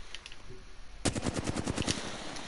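Rapid bursts of automatic gunfire from a PS4 video game, a near, loud run of evenly spaced shots that starts abruptly after a quieter opening.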